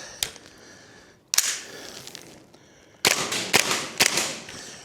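KWA Masada gas blowback airsoft rifle firing BBs through a magazine, sharp snappy shots with a mechanical clack: one isolated shot, a second after a pause, then a quick burst of several close, loud reports.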